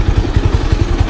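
Motorcycle engine idling close by, a steady low throbbing pulse with faint clatter while the bike is being parked.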